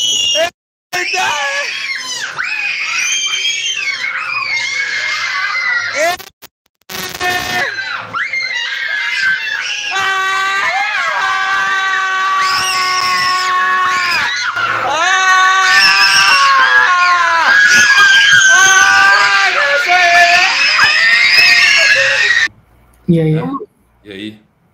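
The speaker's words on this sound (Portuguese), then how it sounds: "Vamos ver quem grita mais alto." Children in a shouting contest scream loudly and at length, several high-pitched sustained yells overlapping with brief gaps, close and intense, with some talking at the start and end.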